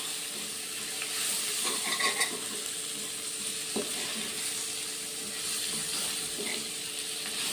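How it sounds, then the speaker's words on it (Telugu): Cucumber seeds fry in oil for a dried-fish curry, producing a close, constant sizzle and hiss with occasional crackles and scraping stir sounds, no voices. "ఇప్పుడు ఈ నూనెలో ఈ దోశ గింజలు కూడా మంచిగా వేగి మంచి టేస్ట్ వస్తాయి"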